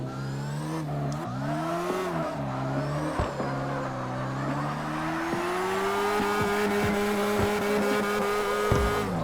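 A car engine in CarX Drift Racing Online revs and drops in pitch through gear shifts while drifting, with tire squeal running underneath; the sound is loud, steady and continuous, with no talking.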